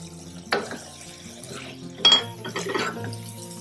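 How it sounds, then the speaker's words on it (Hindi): A spoon stirs aloo matar methi with tomatoes in a pan, giving a few scraping and clinking strokes against the metal over a soft sizzle, close and moderately loud. "इसको हम अच्छे से मिक्स कर लेंगे।"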